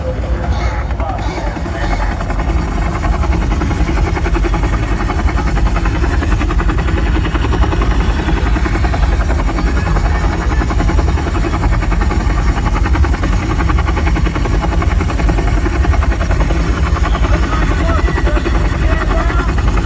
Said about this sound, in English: descend the chopper at full RPM